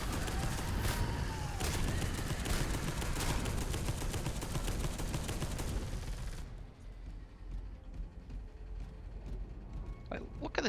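Dense rapid las cannon fire and explosive bursts in Space Hulk: Deathwing, loud and continuous, then dropping to quieter scattered shots and rumble.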